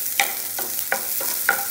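Onions frying in hot oil on a gas stove, a steady sizzle broken by several sharp scraping stirs spaced roughly every half second, heard close with no talk.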